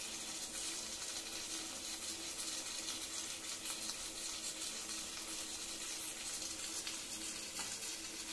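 Chicken roast cooked without added water is stirred in a pan, giving a steady, close sizzle with faint scraping throughout, no talking.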